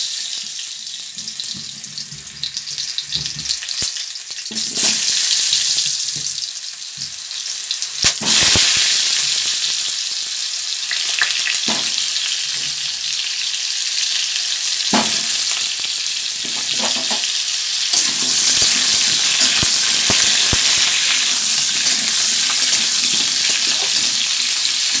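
Potatoes sizzle as they are lightly fried in a pan for alur dom, with a continuous loud crackle broken by stirring scrapes and clatters close by.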